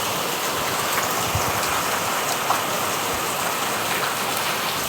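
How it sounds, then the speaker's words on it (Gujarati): Steady rain pours down in a village during a cool monsoon spell, a dense, even hiss of drops hitting surfaces close by that holds without a break. No voices are heard. "મસ્ત વરસાદ આવે છે."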